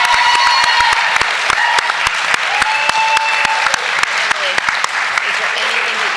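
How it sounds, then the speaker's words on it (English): Audience applause for Emily on a recovery talk show, a full room clapping steadily and loudly, with sharp individual claps standing out near the microphone and faint voices underneath. "Give Emily a nice round of applause."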